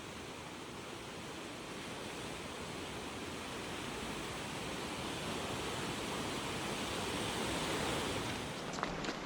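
The Elwha River in Olympic National Park rushes against rocks in a steady, full roar of flowing water, constant and even throughout with no voices.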